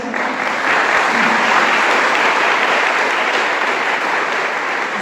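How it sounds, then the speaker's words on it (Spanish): A church congregation applauds to welcome visitors at a Sunday morning service, loud, dense and steady clapping filling the whole stretch without a break. "Bienvenidos, vamos a darles un aplauso"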